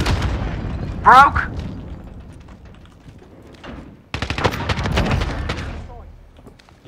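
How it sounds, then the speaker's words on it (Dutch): Rocket explosion and gunfire in the video game Call of Duty: Warzone: a sharp loud blast followed by rattling bursts of shots, then a second dense volley of gunfire, with players talking over the action. "knal ik een raket naar binnen"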